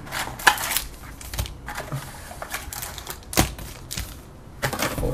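Cardboard of a 2012 Panini Crown Royale football trading card box being cut open, giving scattered close scraping, tapping and crunching sounds in irregular bursts, with no talking.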